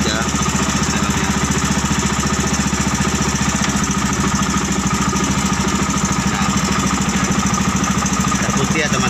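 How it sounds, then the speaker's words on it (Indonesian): A motorcycle engine rigged to drive a car transmission runs steadily with a loud, rapid mechanical chatter and constant hum, with someone speaking briefly over it. "Jadi mesin motor ini hanya memutar transmisi mobil."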